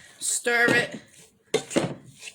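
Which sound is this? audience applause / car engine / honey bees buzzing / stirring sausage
stirring sausage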